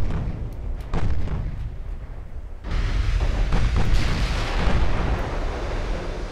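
Naval gunfire from French battleships in the video game Ultimate Admiral Dreadnoughts: a booming salvo, then a rolling, rumbling barrage of heavy shots that builds and holds at a steady level.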